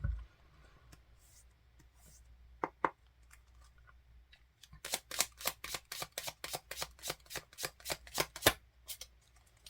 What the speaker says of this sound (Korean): 한 번 더 셔플할게요